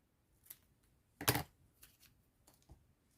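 Scattered cuts through paper for a pop-up scrapbook album, several light, quiet snips with one louder slice near the middle, set against a quiet background.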